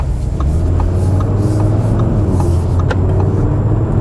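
Inside a 2022 Audi RS3 on the move, the engine gives a steady low drone, moderately loud and continuous, with faint clicks and road noise over it.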